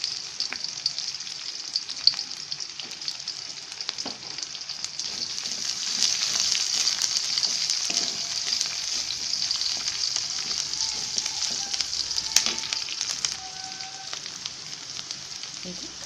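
Onion and green chillies frying in a pan for a mixed sprouted-legume curry, a steady broad sizzle running continuously throughout with a few faint clinks and scrapes, no voices.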